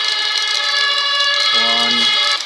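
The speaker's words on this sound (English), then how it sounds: "I believe I need a water tender fire truck." A fire truck siren from the video game Emergency, a loud, sustained wail with steady tonal layers, joined halfway through by a lower, deeper horn-like blare.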